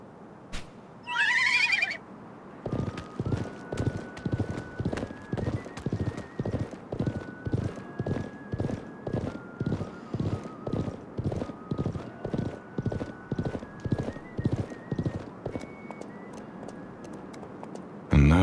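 A horse whinnies, then its hooves clip-clop in a steady, even trot that carries on throughout, loud and close, in the video game Live A Live, with a soft musical tone sustained underneath.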